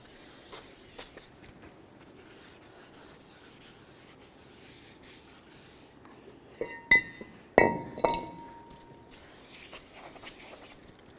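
Brake cleaner is sprayed onto a new brake rotor: a faint hissing spray early on, then a few sharp clinks and rubbing knocks in the middle, followed by another soft hiss of spray.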